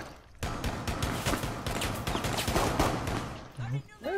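Rapid, overlapping gunfire from a video game shootout crackles almost continuously, with voices talking over and between the shots.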